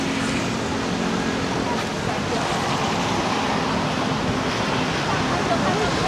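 Steady wind buffets a beach in Da Nang ahead of Typhoon Fengshen, a broad continuous roar with surf-like rush and microphone buffeting filling the whole stretch, no distinct gusts standing out.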